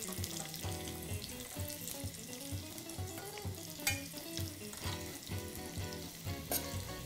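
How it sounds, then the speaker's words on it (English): Onions sizzle and fry in a hot pan for black-eyed pea soup, a close, steady crackling hiss with occasional stirring clatter and no talk. "you hear that sizzling?"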